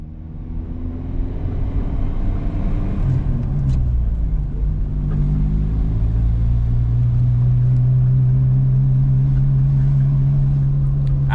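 A Volkswagen Mk2 Jetta drives along with a loud, close engine drone and low rumble that rises and holds steady under road noise, with no one talking.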